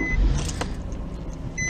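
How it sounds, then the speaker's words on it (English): A car drives along, heard from inside as a steady low rumble of engine and road noise, with a brief brighter whoosh partway through and no one talking. "Driving."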